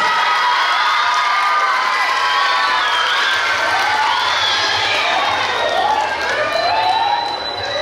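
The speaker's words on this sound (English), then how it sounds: "Let's give them a big round of applause." Students at a school pep rally for state test results cheer and clap in a large echoing gym, a loud continuous crowd roar with whoops and shouts layered over scattered applause.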